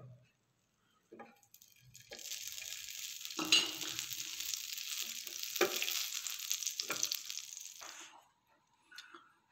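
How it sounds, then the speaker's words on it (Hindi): Ghee heating on a tawa for pav, a close, steady sizzle and hiss that swells and then fades, broken by a few sharp spatters and clinks. "पाव बनाने के लिए हमने तवा लिया है। आप इसमें चाहो मक्खन डालिए, घी डालिए, मैं इसमें घी डाल रहा हूँ।"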